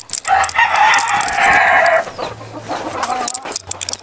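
A fighting rooster crows loudly and close by in one long drawn-out call, followed by softer clucking and a low voice in the background.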